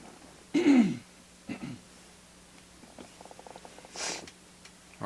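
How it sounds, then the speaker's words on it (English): A man clears his throat in a quiet room with a rough, raspy rumble, followed by a couple of shorter snorts and sniffs, then soft breathing and small noises. "Sorry about that, I had to clear my throat."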